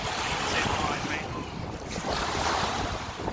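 Surf washing onto the shore at Jumeirah Beach Residence beach in Dubai, a steady broad wash of waves with wind buffeting the microphone, fairly close and continuous.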